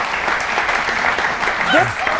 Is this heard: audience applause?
yes